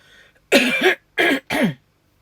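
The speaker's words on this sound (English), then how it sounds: "I'm going to have to cough." Three harsh coughs close up, the first long and doubled, then two shorter ones in quick succession.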